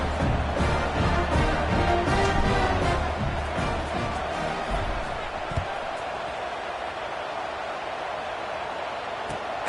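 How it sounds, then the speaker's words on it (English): A football stadium crowd at a Texas A&M game buzzes loudly just after a score, a dense roar with scattered shouts that eases slightly toward the end while a commentator talks over it. "this crowd is buzzing after that last score"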